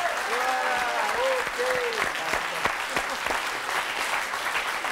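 Applause from a studio audience on a French talk show, steady and fairly loud throughout, with a voice speaking over it.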